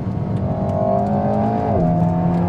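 A Renault Megane RS Trophy is driven a little harder, its engine note rising steadily and then dropping briefly at a shift before climbing again, heard from inside the car.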